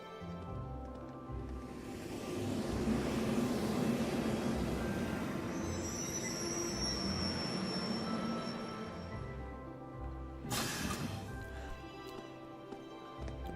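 A train in the game Trails of Cold Steel rolls into a station platform, a sustained rumbling roar of wheels and carriages swelling then easing, with a high metallic squeal midway and a sharp burst of noise near the end.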